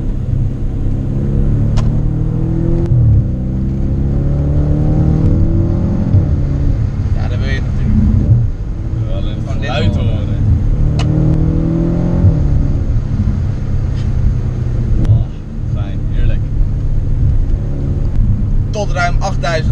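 A non-turbo Audi RS5 engine revs hard toward high rpm, then brakes and downshifts, with a loud rumbling drone and blips up close while someone talks over it.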